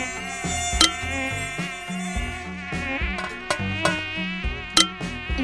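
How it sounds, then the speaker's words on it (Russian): Giant mosquitoes, like Earth's but three times bigger, drone in a steady, close buzz that shifts pitch in steps, with a few sharp clicks along the way and no voices. "Комары похожи на земных, но только в 3 раза больше."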